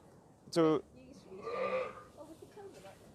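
A single short ewe bleat rings out near the start, followed by a softer, longer bleat among quiet rustling, on a farm during lambing season.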